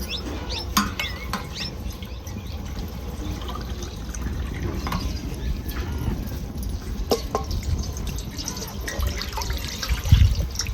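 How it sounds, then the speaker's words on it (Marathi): Water poured from a metal pot into mutton cooking for a spicy mutton rassa, a soft steady trickle and splash running low under room noise, with a slightly louder splash near the end. "आता एक अर्धा पाऊन तांब्या मी पाणी घातले"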